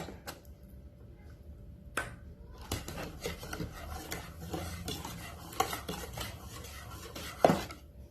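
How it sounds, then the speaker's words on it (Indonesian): Mashed sweet pumpkin is stirred little by little into cake batter for pumpkin kue lumpur, giving soft continuous rubbing and scraping with occasional sharp utensil knocks against the bowl, close and alone. "Labu yang sudah kita haluskan tadi dimasukkan sedikit-sedikit sambil diaduk"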